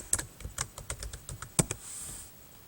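Typing on a computer keyboard to enter a book title on a reading website, a quick run of crisp close key clicks at uneven spacing, then a brief soft whoosh as the typing stops.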